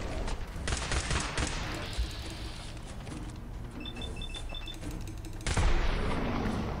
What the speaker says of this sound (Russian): Критический выстрел, он накапливаемый